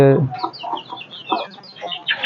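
Native chicken chicks in a small-scale poultry farm peep in a steady run of short, high chirps close by, after a brief low opening sound.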